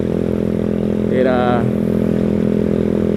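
A Venom X18 motorcycle on a beach-side ride drones with a steady, loud engine note and wind rush, while a rider's brief voice rises over it.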